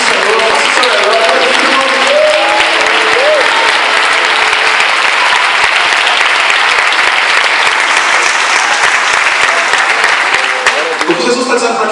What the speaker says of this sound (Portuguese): Vocês aplaudem o Senhor, faça o seu melhor.